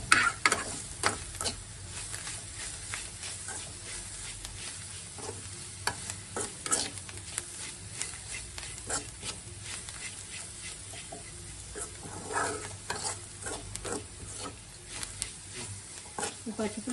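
Okra (bendakaya) fry being stirred in a pan with chilli powder and salt, a steady sizzle broken by repeated scraping stirs throughout, close and fairly loud with no talking.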